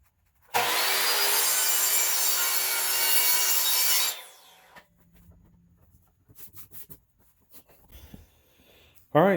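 A scrap wood flooring board is sawn in one loud, continuous stroke lasting about four seconds, followed by quieter handling clatter and faint knocks.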